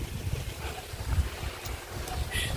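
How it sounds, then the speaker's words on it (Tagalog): A soft outdoor breeze rustles faintly beside a stream-like channel near a building under construction, a low, quiet rumble of wind with no voices over it. "Sarap ng hangin."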